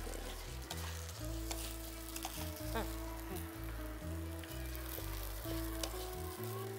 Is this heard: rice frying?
yes